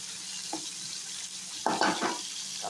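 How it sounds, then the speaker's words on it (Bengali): Salted fish frying in a little oil in a hot pan, a quiet steady sizzle with a few louder spattering bursts as the pieces are moved. "কড়াইটা গরম আছে, একটু হালকা তেল দিয়ে নোনা মাছটা ভেজে নেব যাতে না ভেঙে যায়।"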